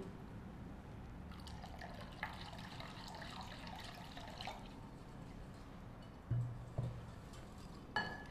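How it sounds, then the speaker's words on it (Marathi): Water pours steadily into a pan for a few seconds while making bajra vadas, then a few drips and soft clinks follow in a quiet kitchen. "तूप गरम होईपर्यंत आपण यात पाणी घालून घेऊया"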